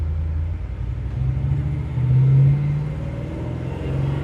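A 1967 Chevrolet Malibu with a 383 stroker engine and four-speed gearbox accelerating in second gear, a deep, loud rumble that swells to a peak midway and then settles into a steady drone, with no talking.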